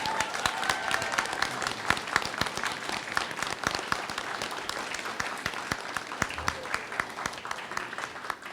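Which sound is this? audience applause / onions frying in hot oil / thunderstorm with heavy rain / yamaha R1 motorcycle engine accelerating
audience applause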